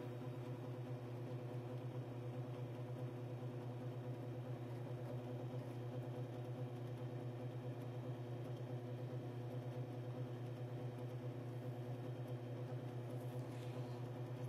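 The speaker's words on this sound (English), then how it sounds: "We'll turn the machine on." A Timken NNL 690 bearing test machine running with Mobil 1 synthetic oil on the race, giving a steady, even mechanical hum with a low tonal drone that holds unchanged throughout, no voices.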